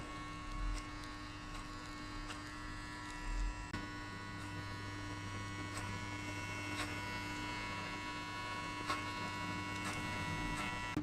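Electric hair clippers buzz steadily while cutting the guideline for a high skin fade on a buzz cut, giving a continuous close mechanical hum with faint tapping ticks throughout.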